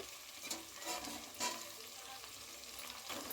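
Fried new potatoes go into a pan of sizzling chicken curry, a steady frying hiss with soft stirring scrapes and a few louder bursts, close up and with no voices.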